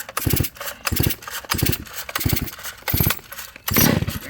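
A Husqvarna 660 chainsaw engine being pull-started: a run of five or six loud rhythmic bursts of cranking and sputter, each under a second, with a brief catch at the end as the engine fires.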